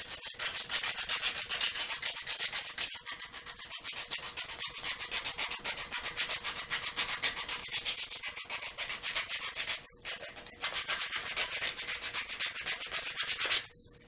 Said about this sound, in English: I'm going to use a piece of maple and a piece of 50 grit sandpaper